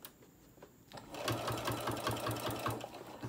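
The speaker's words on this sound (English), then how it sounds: "now I'm gonna sew the other side slowly, the same way" A sewing machine stitches along the side of a baked-potato fabric bag, starting after a quiet pause and then running in a steady, rapid rhythmic chatter, close and fairly loud with no talk over it.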